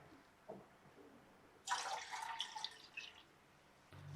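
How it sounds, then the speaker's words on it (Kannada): Water is poured into a large cup-sized vessel for making coffee, a short splashing gush after a faint drip, lasting about two seconds, quiet and close, with light handling sounds before and after. "ಇಷ್ಟು ದೊಡ್ಡ ಲೋಟದಲ್ಲಿ 2 ಲೋಟದಷ್ಟು ನೀರು ಹಾಕೊಳ್ತಿದ್ದೇವೆ"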